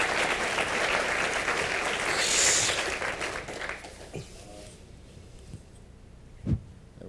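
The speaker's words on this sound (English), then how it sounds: "let's give Tony a round of applause." Audience applause closes a talk, a dense patter of many hands clapping loudly for several seconds, then thinning out into a few scattered claps and faint room noise.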